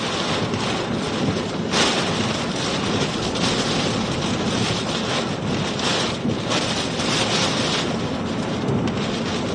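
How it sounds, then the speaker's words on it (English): Strong hurricane wind gusts roar and buffet the microphone continuously, with surging gusts and no talking. "we got some quite strong gusts coming up now"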